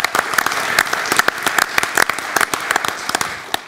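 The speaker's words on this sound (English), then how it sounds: "Give them a round of applause." An audience at a welcoming session of the Wroclaw Global Forum 2014 applauds volunteers with dense, steady clapping from many hands that holds throughout, fairly loud and close, with no one speaking over it.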